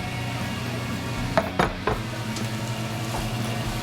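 Zucchini, squash and tomatoes sautéing in a pan, a steady soft sizzle with a few sharp clinks of a utensil against the pan near the middle.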